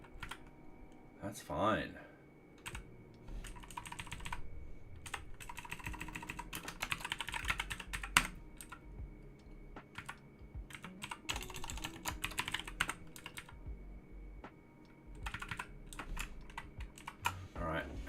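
Quiet, steady typing on a computer keyboard during a web development session, with scattered key clicks and short bursts continuing under intermittent talking.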